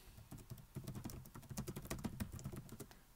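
Quick, uneven keystrokes clatter on a computer keyboard, close and fairly soft, in a rapid patter with no voices.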